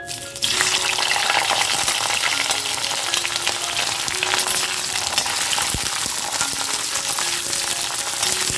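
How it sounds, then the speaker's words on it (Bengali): Bitter gourd pieces fry in hot mustard oil, giving a loud, steady, crackling sizzle that runs unbroken from start to finish with no voices. "তেলটা গরম হয়ে গেলে আমি একটু উচ্ছেগুলোকে ভেজে নেব"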